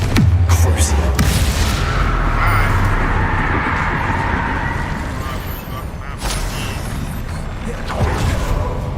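Confringo spell blasts in a Harry Potter video game: loud, booming explosions that roll into a continuous heavy rumble, with sharper bursts at the start and near the end.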